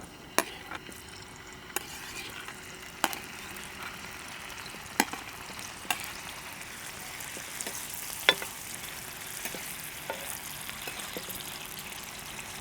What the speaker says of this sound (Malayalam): നമുക്ക് ദോശക്കല്ലൊന്ന് വെച്ചിട്ട് പനീറൊന്ന് വറുത്തെടുക്കാം